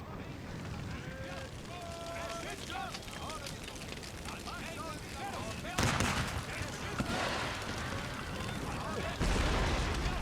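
Artillery fire from a battle in Empire: Total War with the Darthmod mod, heavy booms and crackling volleys rolling over a dense, continuous battlefield din, with loud impacts near six and nine seconds and a voice talking throughout.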